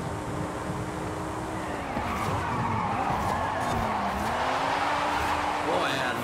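A car in Forza Horizon 5 slides around a corner, tires squealing and skidding over a steady engine drone, loud and continuous, while players talk over it.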